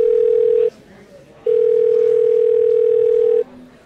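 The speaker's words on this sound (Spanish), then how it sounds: "Alia no contesta el teléfono." A telephone ringback tone sounds as an unanswered call goes through, two steady loud tones separated by a pause, clear and close.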